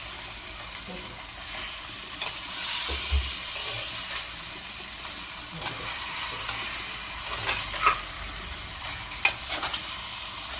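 Chicken with homemade turmeric stirred in a pan for chicken biryani, a continuous close sizzle and frying hiss with soft scraping and occasional knocks of the spoon.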